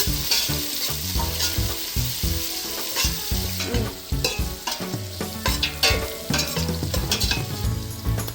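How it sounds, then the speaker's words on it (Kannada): Onions and green chillies for chicken biryani sizzle and crackle in hot oil as they fry until golden brown, with frequent stirring scrapes and clinks of a spatula against the pan, close and lively with no speech. "ಗೋಲ್ಡನ್ ಬ್ರೌನ್ ಬರೋವರೆಗೂ ಫ್ರೈ ಮಾಡ್ಕೊಳ್ಬೇಕು."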